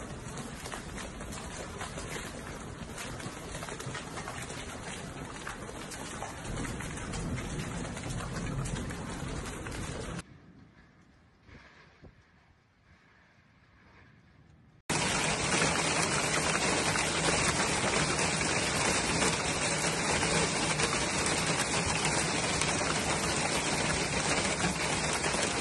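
Heavy rain and hail storm pounding an ancient Sicilian town, a dense, loud, steady downpour that briefly drops to a quieter patter midway before surging back at full strength.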